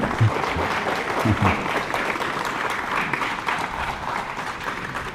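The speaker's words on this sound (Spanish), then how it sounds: "Bueno, un aplauso para el abuelo Berito." A conference crowd gives warm, continuous applause for Berito Cubarúa, indigenous U'wa community leader, with a few louder individual claps near the start as the clapping holds steadily throughout.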